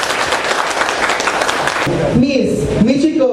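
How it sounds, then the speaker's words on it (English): A round of applause for a board of judges at a school class debate: steady, dense clapping from an audience for a couple of seconds, then tapering as a voice comes in over it. "a round of applause"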